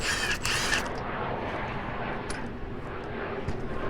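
A bushing tool presses a polyurethane lower arm bushing into a Honda Element, producing a continuous, strained creaking and groaning under load, close and steady, with a few sharper squeaks and no talk.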